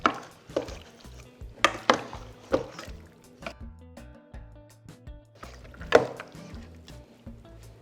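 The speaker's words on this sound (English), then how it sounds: "Let's stir it up." A spoon stirring marinated turkey wings with salt and all-purpose seasoning in a bowl, giving intermittent soft scraping and wet clacking strokes at an uneven rhythm, close and fairly quiet, with no talking.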